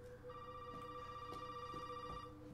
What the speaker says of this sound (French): le bruit du téléphone, il me fait mal aux oreilles